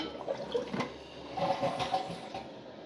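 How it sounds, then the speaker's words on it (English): A newly installed toilet flushing, a gurgling rush of water at moderate volume over a few seconds, with no talk. "If we want to depress this white one, it will flush"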